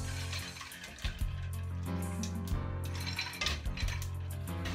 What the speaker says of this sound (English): We're going to be putting our ice in now, bringing our temperature down as quick as possible.